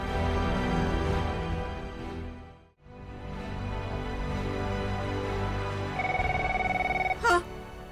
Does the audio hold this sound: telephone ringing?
yes